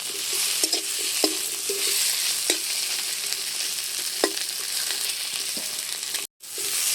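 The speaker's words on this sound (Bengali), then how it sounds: "এভাবে আমি পেঁয়াজ আদা রসুনের সাথে হালকা করে ভেন্ডিগুলো ভেজে নেব।" Fresh okra fries with onion, ginger and garlic in a pan, a steady close sizzle with scattered clicks and scrapes of stirring throughout, briefly cut at the end.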